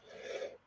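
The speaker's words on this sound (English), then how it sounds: "my cough is still lingering" A single raspy cough from a person whose cough has been lingering, preceded by a wheezy, breathy rasp and ending in a short, sharp burst close to the mic.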